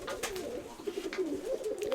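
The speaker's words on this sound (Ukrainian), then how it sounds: "Оце оцей чорнорябий з білою голубочкою." Pigeons coo softly and repeatedly inside a loft where a black-pied male sits with a white female by their nest on the floor, the low rolling calls close by and continuous against faint background noise.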